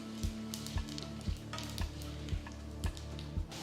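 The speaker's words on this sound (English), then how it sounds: "Next add all the whole spices, 1 teaspoon fennel, 1 teaspoon cumin seeds, cinnamon, cloves and cardamom." Whole spices, fennel, cumin seeds, cinnamon, cloves and cardamom, sizzling in hot oil, a steady crackle under regular soft knocks roughly every half second.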